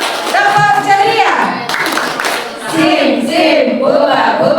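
Children in a classroom at an end-of-year report card event doing a rhythmic group cheer clap, clapping and chanting together, loud and close, with voices over the claps throughout.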